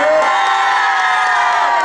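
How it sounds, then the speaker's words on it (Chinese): A large crowd screams and cheers for Mazu at a temple festival concert in Bade, Taoyuan, a loud, dense, sustained roar of shrieks and whoops with no gaps. "再来一个尖叫声"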